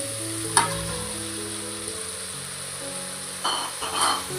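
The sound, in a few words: chicken and vegetables being stirred and sautéed in a pan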